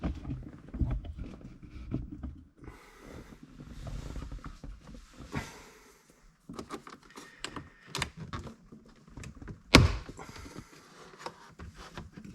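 A plastic trim tool prying interior trim clips loose in a Porsche 911 991: quiet scattered clicks, scrapes and snaps, with one louder pop near the end, close up and intermittent with no talking.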